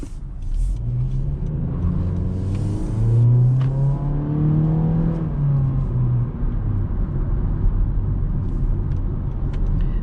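A 2022 Honda Civic LX accelerates in sport mode, heard from inside the cabin as a steady engine drone rising in pitch through the gears over constant road and tire rumble; no talking.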